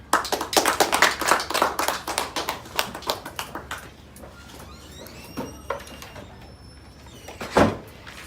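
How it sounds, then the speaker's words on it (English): Clapping from a small audience at a public speaking school event for a student speaker, a burst of sharp distinct claps that thins out and fades into sparse taps and room noise, with one louder clap near the end. "now we are going to put our hands together for our next student speaker"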